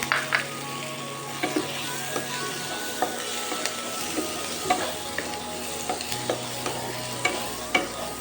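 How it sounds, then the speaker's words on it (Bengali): Sliced onions and julienned carrots frying in a pan, a steady close sizzle broken by regular clicks and scrapes of a spoon stirring against the metal. "পেঁয়াজটা কিন্তু ভাজা ভাজা হয়ে যাওয়ার পরই কিন্তু গাজর কুচিটা দিতে হবে"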